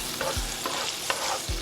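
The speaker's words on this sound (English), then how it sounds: "we're at the pan with the olive oil and onions and garlic. All right, you can see it sizzling in there, nice and sizzle." Onions and garlic sizzle in olive oil in a pan, a steady close frying hiss broken by a few brief stirring scrapes and clatters, with no talk.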